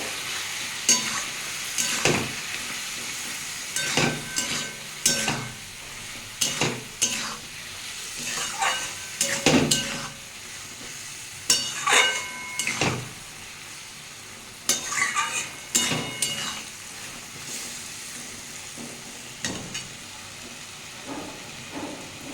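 Papaya chutney with turmeric and salt being sautéed and stirred, repeated scraping strokes of a spoon against the pan under a steady soft sizzle, close and moderately loud, with no talking.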